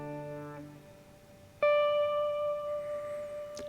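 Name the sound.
electric guitar with delay effect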